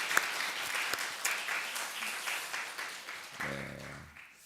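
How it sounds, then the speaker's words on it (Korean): A church congregation claps during a Sunday family worship service, steady mid-level applause that tapers off, with a brief voice rising near the end. "우리 다시 한번 이 장로님 가정을 위해서 축복하면서 박수 한번 해주시기 바랍니다."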